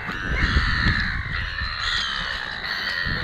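Gulls call loudly and continuously overhead at a beach, harsh overlapping cries with faint background noise and no talk.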